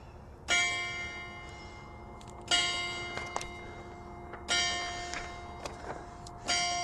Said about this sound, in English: And we can hear the bells.